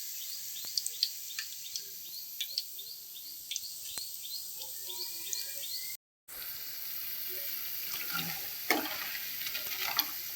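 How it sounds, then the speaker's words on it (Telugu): Punugulu batter fritters fry in hot oil with a soft, even bubbling sizzle and scattered light ladle taps and scrapes; a short gap of silence splits it, then the frying resumes slightly louder, with no talk. "కొంచెం ఒక 5 మినిట్స్ ఫ్రై అయిన తర్వాత అటు ఇటు తిప్పాలి కొంచెం గరిటెతోటి"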